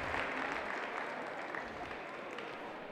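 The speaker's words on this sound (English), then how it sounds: "She gets a nice round of applause here from the Falcon faithful." Steady crowd applause fills a women's basketball arena as home fans of the Falcons cheer a player leaving the court, a dense wash of clapping that holds at an even level for the whole stretch.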